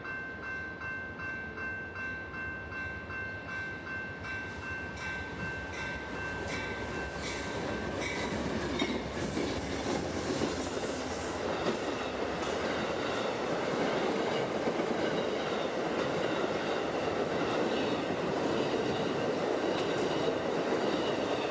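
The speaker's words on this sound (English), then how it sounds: "It's PO91, the southbound Silver Star, speeding to his station stop in Kissimmee." Amtrak's southbound Silver Star passenger train speeds past on its way to the Kissimmee stop, a loud, steady roar of rolling wheels and rail noise that builds and holds close by throughout, with no one talking.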